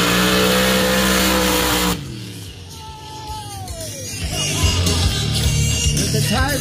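A mud race vehicle at the Chinle, Arizona mud race roars at full throttle, then drops off and builds again into a revving, accelerating engine run, loud and outdoors.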